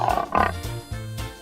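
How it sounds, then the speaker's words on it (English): A lion roars in several short, fairly quiet bursts, each a gruff grunting call separated by brief pauses, with nothing else heard. "Lion."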